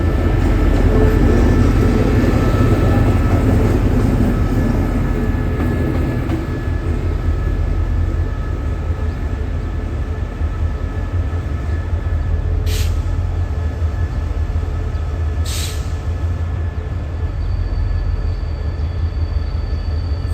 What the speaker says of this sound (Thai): ในขณะนี้มีริ้วขบวนรถเข้ามาครับ